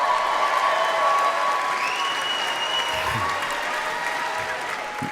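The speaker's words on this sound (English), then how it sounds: "You clap for that." A comedy club audience applauds steadily, a dense, loud wash of clapping that holds for several seconds and slowly eases, with faint crowd voices mixed in.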